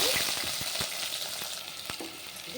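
Spices and onions sizzle in hot oil: fenugreek seeds, mustard seeds and urad dal crackle with scattered pops over a steady frying hiss, close and moderately loud, for a fish curry.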